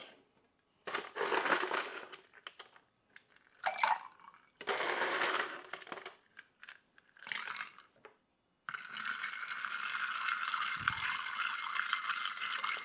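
Ice rattles and clinks as pineapple bourbon lemonade is stirred in a mixing glass, several close bursts of crunching and clattering separated by brief pauses, then a steadier swirl.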